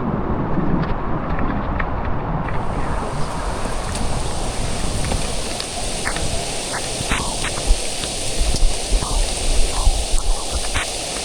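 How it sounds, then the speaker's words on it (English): Heavy rain pouring down during a thunderstorm at a cave dig in Alabama, a steady dense wash of noise running the whole way through, with scattered close drips and patters standing out near the end. "it is pouring down rain to the point that we're going to have to abort"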